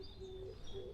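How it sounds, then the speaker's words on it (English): Wild birds call in a Korean mountain forest, a few thin, sustained whistled notes repeating faintly over soft background hiss, with no voices. "there are maybe three birds."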